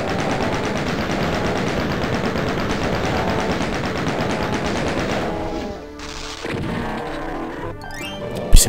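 Rapid gunfire from the video game DOOM rattles in a dense, loud burst for several seconds, then breaks off into scattered impacts and a sharp final crack.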